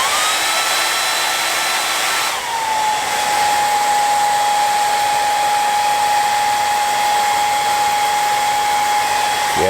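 A hair dryer blows on a wet Halloween Kills mask from Trick or Treat Studios, a loud, continuous whooshing roar with a steady high whine that shifts pitch once early on and then holds evenly.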